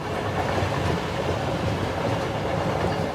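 A train runs on rails with a steady, dense rumble and roar, heard close and continuous throughout with no pauses.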